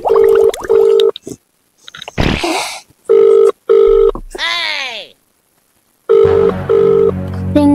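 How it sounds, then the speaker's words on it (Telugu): Phone ringing during a call, with repeated electronic ring bursts in a steady pattern, loud and close, broken by gaps and short noisy sounds, and no clear speech. "రింగ్ అవుతుంది, లిఫ్ట్ అవుతలేదు ప్లీజ్."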